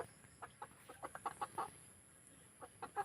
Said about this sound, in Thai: อันนี้ไก่แจ้ ไก่แจ้ เบนจรงนะครับ สีไก่ไทยนะครับ